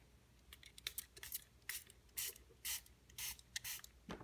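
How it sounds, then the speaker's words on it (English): Spray bottle misting water around a hermit crab enclosure, several short hissing bursts of varying length in close succession, fairly close and clear with no talking. "I'm going to spray kind of around,"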